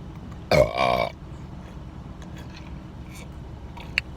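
A single loud burp rings out early during a family burping challenge, lasting about half a second, followed by quiet room tone and a faint click near the end.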